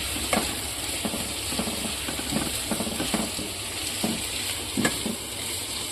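Chopped ginger fries lightly in a pan, a steady close sizzle with intermittent soft scrapes and taps of a stirring utensil, and no voices.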